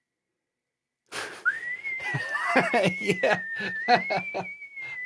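A person whistles a long, steady sustained tone to imitate the sound of stones being whistled into place, starting after a second of silence, with chuckles and a brief spoken word breaking in under the whistle.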